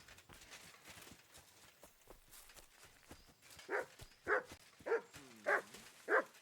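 A dog in Kingdom Come Deliverance 2 gives five evenly spaced barks after a stretch of quieter background sound.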